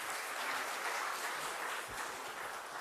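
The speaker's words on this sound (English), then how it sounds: "Give her a big round of applause" Continuous audience applause fills a hall at a Women Scientists Conclave attended by Governor Tamilisai Soundararajan, a steady, even roar of many hands clapping with no voices heard.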